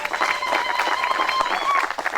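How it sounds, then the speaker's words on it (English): A room full of people clapping together in a steady patter at a wedding ceremony, with voices mixed in under the applause. "Come on, let's clap for them."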